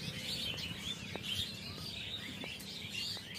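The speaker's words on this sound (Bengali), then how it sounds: "দেখো এখানে কতটা আওয়াজ হচ্ছে পাখিদের" Small birds chirp and tweet in a bamboo grove beside a road near Tarakeshwar temple, faint, scattered calls rising over a low outdoor rumble, with no one speaking.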